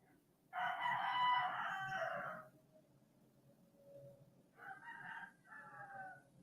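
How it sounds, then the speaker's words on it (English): A rooster crows cock-a-doodle-doo twice at moderate distance, a long first call followed after a pause by a shorter broken one, over faint background hiss. "when do roosters cock-a-doodle-doo?"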